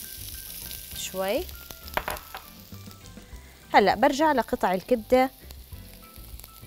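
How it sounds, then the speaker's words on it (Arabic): Chopped onion frying in hot oil in a pan: a steady, loud sizzle with crackling bursts and stirring, while a person talks over it. "رح أضيف الزيت على النار وأحط البصل المقطع جوانح يقلي معنا"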